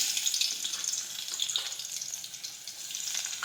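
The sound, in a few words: crushed garlic sizzling in hot oil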